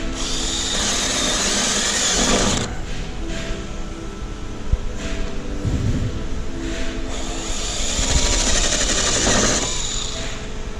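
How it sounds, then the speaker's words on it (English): A power drill bores into the sheet-metal quarter panel of a 1969 Pontiac GTO during restoration. There are two loud, close bursts of high whining drilling, with quieter grinding and clanking between them. "so there you can see I just got that one drilled"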